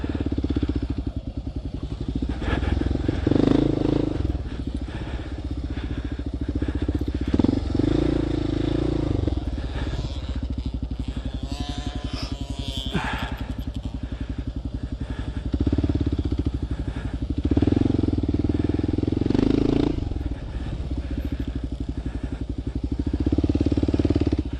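Motorcycles ride laps on a practice track, their engines rising and falling in pitch as they accelerate, back off and pass close by, with a steady mechanical drone throughout.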